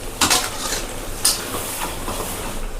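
Spices frying and being stirred in a pan for a Bihari-style mutton curry, with a few sharp scrapes and clinks of the spoon over a steady low sizzle, close and alone without talk.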